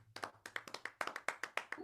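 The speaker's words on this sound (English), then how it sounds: "this is the applause that Elvin programmed for me" Programmed applause sound effect played back virtually, a thin series of about a dozen sharp, evenly spaced claps with a faint steady hum beneath, sounding more like a sparse clapping loop than a full crowd.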